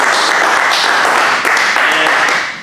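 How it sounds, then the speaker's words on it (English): A room of people gives a loud, dense round of applause for Randy, the first Houston Mo's employee, marking his work anniversary. The clapping stays steady and close throughout. "And a round of applause for Randy."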